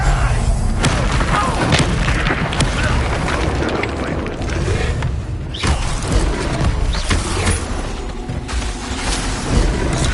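Bombarda explosion spells in the Hogwarts Legacy video game boom loudly, with dense blasts and rumbling debris rolling on continuously amid battle noise.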